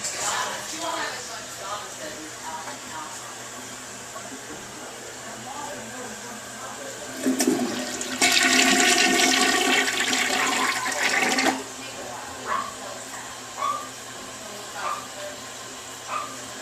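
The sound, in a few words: toilet being flushed but not flushing properly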